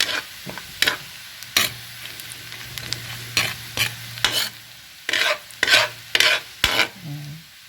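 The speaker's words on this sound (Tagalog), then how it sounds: "Huwag niya sunugin yung bawang, ha. Ayun yung itsura ng tinapa ng pinrito natin." Smoked fish (tinapa) frying with garlic in a pan: a low sizzle runs underneath while repeated scraping stirs come in short bursts, close and clear, with no talking.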